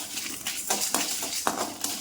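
Dried red chilies, black pepper and whole spices are stirred in a pan. A spoon scrapes in quick, rhythmic strokes against the metal, close and fairly loud, with a faint dry rustle of the spices.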